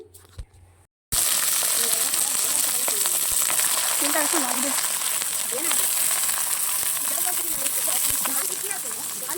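Vegetables fry in a pan at an outdoor group picnic, a steady, fairly loud sizzle that begins after a second of quiet and runs unbroken, with faint voices in the background.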